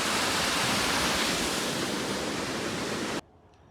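River water rushes loud and steady at a crossing on the Appalachian Trail, a dense broadband roar that fills the scene without pause, then cuts off abruptly near the end.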